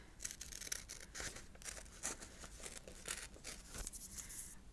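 Scissors snip and tear through rolled paper while trimming craft backing for a graphic novel art piece, a run of close, crisp rustling cuts and crinkles with short pauses between strokes.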